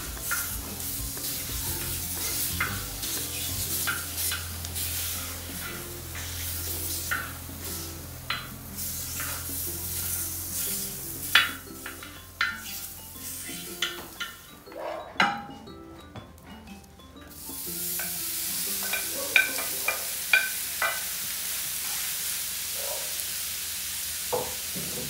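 Bacon fat frying on a plough disc set over a wood-fire stove, a steady sizzle with scattered clinks and scrapes of a utensil against the metal, briefly quieting mid-way before the frying hiss returns at close range.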